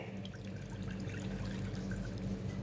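Wheat milk being poured into boiled cow's milk, a soft continuous liquid pour with faint trickles, steady and close for under three seconds.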